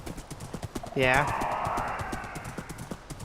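Skeleton horse in a video game: steady hoof clip-clops throughout, with a short rising whinny near the start, while people talk over it.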